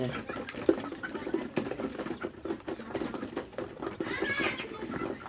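Desi (native) chickens mixed with Fayoumi chickens cluck and squawk in a busy, scuffling flock, with brief bursts of wing flapping and sharper calls rising over the steady clamor.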